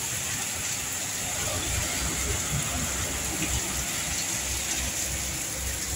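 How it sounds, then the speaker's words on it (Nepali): Heavy early-summer rain pouring down by a roadside and soaking a parked motorbike makes a dense, steady hiss that stays close and unbroken throughout. "ठुलो पानी आएको छ"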